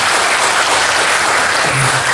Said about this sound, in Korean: 축복의 박수로 격려합니다.